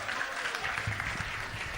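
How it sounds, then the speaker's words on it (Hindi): An audience at a live Guru Rajendraji Maharaj devotional event breaks into loud applause, a dense steady wash of clapping for under two seconds. "दक्षेंद्र अग्रवाल के लिए भी जोरदार तालियां।"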